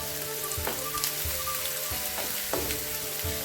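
Onions sautéing in a pan without salt, a close, even crackling sizzle with a few soft spatula knocks scattered through, no voices.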